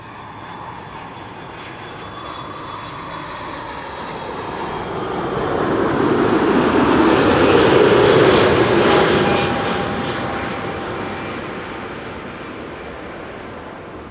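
An airliner landing at Amsterdam Schiphol Airport on a sunny day passes overhead. A broad engine roar swells to a peak near the middle of the pass and then fades away. No voices are heard.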